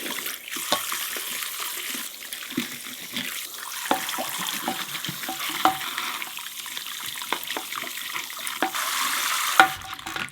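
Cold tap water runs steadily while bleached hair is rinsed in a sink, a continuous splashing hiss broken by small clicks and shifts as hands work through the stream.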